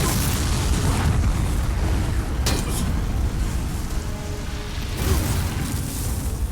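A dragon's fire blast in the Demon's Souls remake roars as a loud, sustained, rumbling whoosh, with two sharper crackling bursts breaking through the dense noise.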